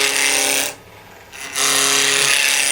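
Wood turned on a lathe with a roughing gouge: a loud, continuous hissing rasp of the cutting, briefly dropping away to the motor hum as the tool lifts off, then biting in again.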